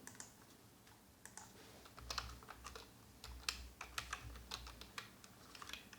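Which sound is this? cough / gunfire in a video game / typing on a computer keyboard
typing on a computer keyboard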